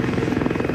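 A helicopter's rotor throbs in a steady, loud, close beat for a brief moment.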